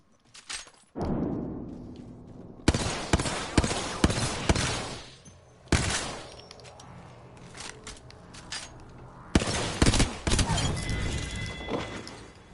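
Bursts of video game gunfire in a shooter, several loud dense volleys separated by quieter gaps, with heavy thuds and impacts throughout.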